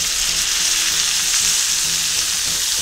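Two tablespoons of sake hit a hot pan of browned chicken and sizzle loudly and steadily, a dense close hiss with no voices over it.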